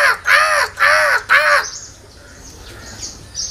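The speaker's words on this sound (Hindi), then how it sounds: "देखिए देखिए कौवा आ गया, देखिए।" Three loud, harsh crow caws in quick, even succession, close by, then fading into quiet background noise.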